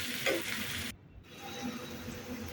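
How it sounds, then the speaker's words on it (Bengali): Chopped onions fry in a pan for a chicken kasa with a soft, continuous sizzle. A brief dip in the middle is followed by the sizzle resuming at a steady level. "পেঁয়াজগুলোকে কুচি কুচি করে নিয়েছিলাম আমি, সেগুলোকে দিয়ে দিচ্ছি, ভেজে নেব।"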